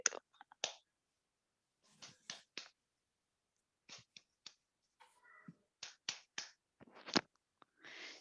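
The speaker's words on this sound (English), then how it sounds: "we do something called a love clap" Small group performing a love clap gesture at a volunteer stress workshop: sparse, quiet snaps and claps in loose clusters separated by silences, with faint rustling between, no speech.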